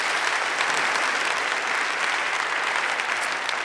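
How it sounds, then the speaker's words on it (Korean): A conference audience claps for the staff at the 2019 TGC Korea conference, with loud and dense applause filling the whole stretch at an even level. "우리 스태프들에게 우리 박수 한번 하시겠습니다"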